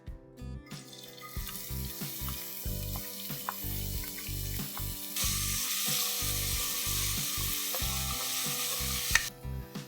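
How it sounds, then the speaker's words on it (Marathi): Finely chopped onion frying in about four tablespoons of oil for a Koli mutton masala, with a continuous sizzle, rhythmic low thuds of stirring against the pan, and a louder surge of hissing midway, no speech. "आणि एक मोठी वाटी मी बारीक चिरलेला कांदा घेतलाय, तर तो मी फ्राय करून घेते आता।"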